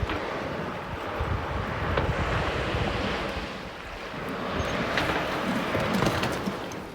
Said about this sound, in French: il y a le bruit de l'eau, des vagues qui viennent se briser sur les plaques de banquise ou sur les icebergs.